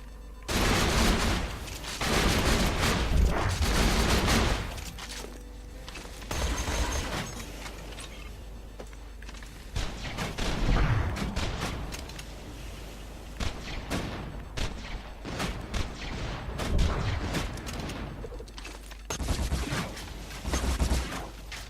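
Modded guns blasting in Borderlands 2, with dense bursts of rapid gunfire and heavy explosive booms in loud sustained volleys separated by short lulls, continuing throughout with no talk.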